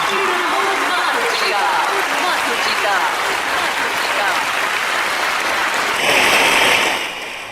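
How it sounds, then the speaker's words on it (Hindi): Loud, sustained applause from an audience, dense clapping throughout that swells near the end before tapering off. "तालियों की गड़गड़ाहट के साथ स्वागत कीजिए"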